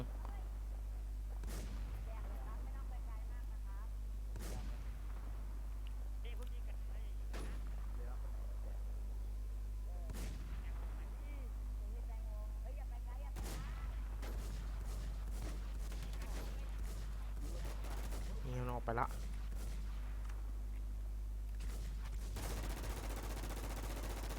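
Sharp gunshots and explosions crack out at irregular intervals in the video game WarZ, with a quick burst of rapid fire near the end, over a steady low hum and occasional talk.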